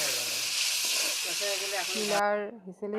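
A fish curry masala hisses and sizzles loudly in a hot pan for about two seconds, then the sizzle stops abruptly and a voice speaks over the quiet that follows.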